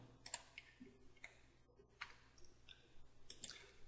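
Faint computer mouse clicks, a few isolated sharp ticks spaced across a few seconds, near and quiet with no talk.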